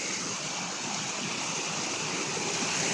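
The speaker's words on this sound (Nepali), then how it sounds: "बाटो त यो त झर्ना छ कसरी जानु यार।" A waterfall stream flowing over an old cliffside path, a continuous rushing wash of water at moderate level, steady and unbroken with no voices.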